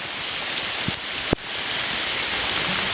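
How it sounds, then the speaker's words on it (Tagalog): Very heavy rain pours down in a constant, hissing roar, broken by a couple of sharp knocks. "sobrang lakas ng ulan talaga"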